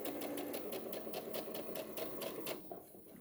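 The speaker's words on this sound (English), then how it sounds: "taking out our pin, and we'll start to stitch, and it will back stitch for us" A sewing machine stitches pajama shorts with a fast, even mechanical rattle close by, running steadily before slowing and stopping near the end.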